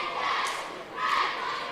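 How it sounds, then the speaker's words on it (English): Cheerleaders from the DuQuoin Indians perform their opening cheer at a high school basketball tournament game, two loud bursts of group shouting in a reverberant gym, with crowd noise underneath. "DuQuoin Indian cheerleaders doing their opening cheer"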